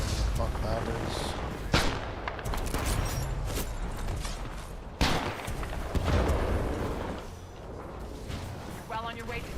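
Pistol shots crack in Titanfall 2, with several sharp, separate bursts spaced irregularly among other game noise and mechanical clatter, with talking underneath.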